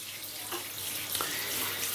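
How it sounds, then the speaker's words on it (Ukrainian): Water from an Atmor Basic 5 instant electric heater running at maximum 5 kW power pours into a washbasin, a steady broad rushing splash with no voices. "Попробуємо вже напустити умивальник воду, але через водонагрівач."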